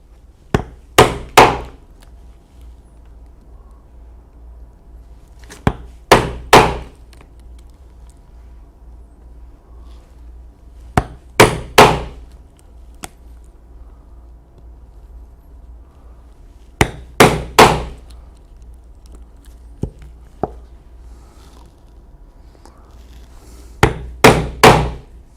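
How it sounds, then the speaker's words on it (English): Clustered hammer strikes drive a 5/32 inch angle chisel through a leather belt, falling in groups of two or three sharp knocks roughly every five seconds, loud and close, with near silence between groups and no talking. "I'm going to use the 5/32 inch wide angle chisel to punch my"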